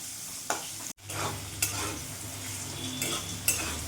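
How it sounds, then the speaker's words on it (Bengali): Potatoes frying in a pan with salt and turmeric, cooked for a pointed gourd and soybean curry, give a steady close sizzle broken by spatula scrapes and a brief hush near the one-second mark. "আলুটা একটু লাল লাল করে ভেজে নেব"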